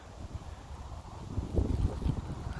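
Wind gusts across an outdoor microphone beside a young coconut palm, a steady low rumble that swells and buffets louder toward the end with no one talking.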